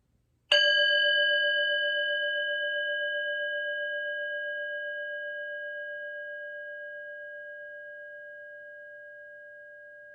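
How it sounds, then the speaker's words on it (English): A single meditation bell is struck once, then rings on with a clear, pure tone that fades very slowly over about ten seconds in otherwise quiet surroundings. "listen to the sound of the bell."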